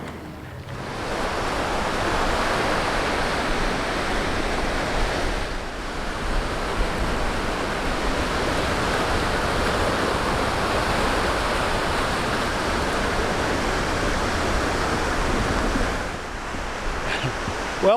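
Atlantic Ocean surf on the beach at Emerald Isle on North Carolina's coast, a loud continuous roar of breaking waves with wind buffeting the microphone, no voices.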